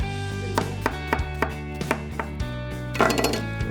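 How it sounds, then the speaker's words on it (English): A knife chops an onion on a cutting board in quick, regular strokes, a dozen or so crisp close thuds over a steady background hum, with a brief scraping flurry near the end. "We're gonna chop our onion, even though we're gonna blend it."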